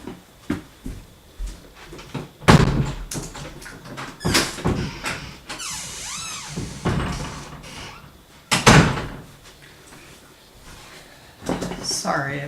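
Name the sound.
door being closed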